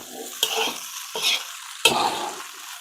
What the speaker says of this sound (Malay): yang ni kita goreng lah sampai dia agak masak sikit